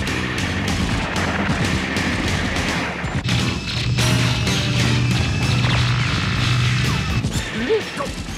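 Rapid gunfire and crashing impacts rattle through a dense, loud anime battle scene, with continuous volleys over a low rumbling background and no voices.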